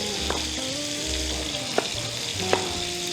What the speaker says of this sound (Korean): 소리가 지글지글 나야 돼요